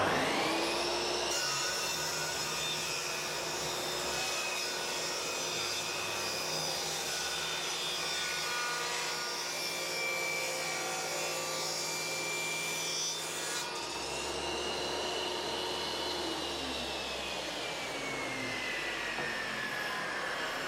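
A saw on a Triton Workcentre bevel-rips a wooden workpiece, making a long continuous whining buzz with a rasping cutting texture, its pitch dipping as the cut loads and then easing near the end.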